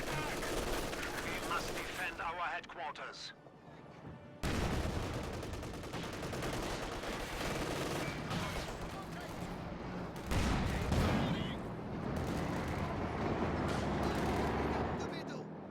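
Gunfire from the Company of Heroes 2 battle game, with an MG42 machine gun team under fire from a marksman sniper, crackles loud and dense throughout, bursts of shots layered over game noise while a commentator talks over it.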